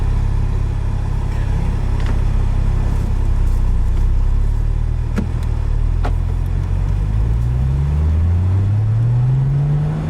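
A 2017 Porsche 911 Carrera Cabriolet drives along, its engine a steady low rumble from inside the car, rising in pitch toward the end as it accelerates.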